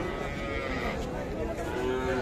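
Cattle at a rural livestock market in Dinajpur, with young heifers and bull calves around, lowing in a long, fairly close moo over a busy crowd murmur.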